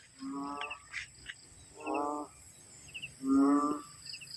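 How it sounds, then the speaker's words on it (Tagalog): Three loud, harmonic frog croaks spaced about a second apart, close by at a hut, over a faint background hum. "Ingay pa nung palaka dito"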